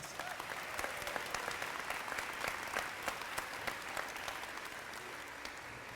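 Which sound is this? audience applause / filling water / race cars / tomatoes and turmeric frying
audience applause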